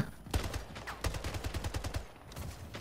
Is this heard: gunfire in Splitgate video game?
yes